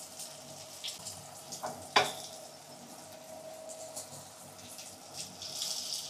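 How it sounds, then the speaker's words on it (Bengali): Stuffed bitter gourd fries in a pan, turned on all sides as it cooks, giving a low, steady sizzle with one sharp scrape or clatter near the middle and a brighter hiss toward the end. No one speaks. "সব দিকে ঘুরিয়ে ঘুরিয়ে ফ্রাই করতে হবে, নাহলে জিনিসটা কাঁচা থেকে যাবে।"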